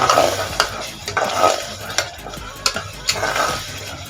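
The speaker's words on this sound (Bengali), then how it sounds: "এবার সব কিছু মশলা খুব ভালোভাবে কষিয়ে নেব" Spices for mutton curry sizzle and fry in a pan while being stirred, with repeated scraping strokes of a spoon against the pan over a continuous close frying crackle.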